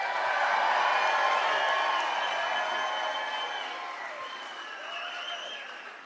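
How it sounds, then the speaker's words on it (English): An audience at a live political event in the Big Nickel area applauds a candidate, Dr. Ian Symington, with sustained clapping that is loud at first and tapers gradually. "Let's have a hand of applause for Dr. Ian Symington."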